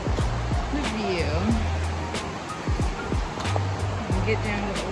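The South Yuba River flows steadily close by, a dense broadband wash of rushing water with occasional faint chirps above it.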